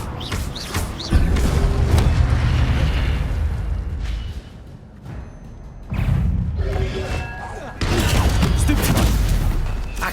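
Fire spell blasts in the video game Hogwarts Legacy, heavy booming bursts that rumble in several loud surges with quieter gaps between them, mixed with other combat sounds.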